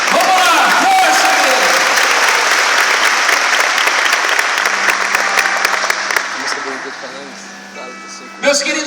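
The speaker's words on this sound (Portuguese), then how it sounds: "Vamos aplaudir a palavra do Senhor aqui." A church congregation breaks into loud, sustained applause mixed with cheering voices, filling the room for several seconds before thinning out, with a final brief burst of clapping at the end.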